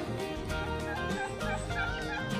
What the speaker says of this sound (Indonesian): Ayam jago nih.